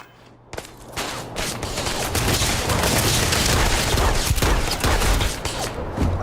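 A small handgun fires in rapid, repeated bursts during combat in the space game Starfield, close and loud, the shots blurring into a dense crackling volley that runs for several seconds.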